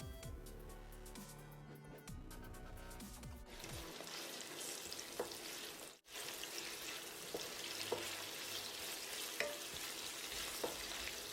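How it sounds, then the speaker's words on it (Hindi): Onions and whole garam masala sizzle in a cooking pot of hot oil, a steady broadband frying hiss with a few stir scrapes and clinks, briefly interrupted midway before resuming loud and close. "कुकिंग पॉट में मैंने 1 कप कुकिंग ऑयल डाल दिया है और इसमें हम ये प्याज और खड़े गरम मसाले"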